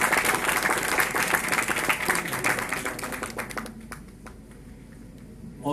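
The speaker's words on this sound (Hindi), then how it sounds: "जोरदार तालियों के साथ आप स्वागत कीजिए।" Audience applause welcoming a speaker at the Sahitya Aaj Tak 2018 literary event, dense clapping from a crowd that holds strong for about four seconds, then thins to scattered claps.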